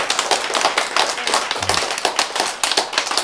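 An audience at a lecture claps in sharp, quick, fairly even strokes, with a brief low thump in the middle.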